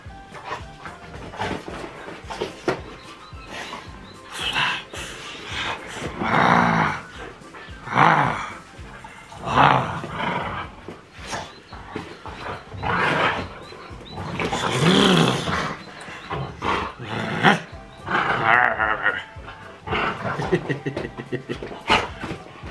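A dog playing with its ball lets out repeated low growls and snorting grumbles in bursts, close up in a home, while people talk in French around it.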